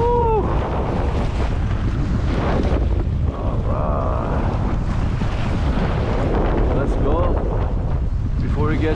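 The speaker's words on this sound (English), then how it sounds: "Oh yeah, these are gnarly waves." Stormy sea waves surge around an Old Town Sportsman Autopilot 120 fishing kayak, heard as heavy, close wind buffeting on the microphone mixed with rushing water. Brief faint voices or whoops rise now and then.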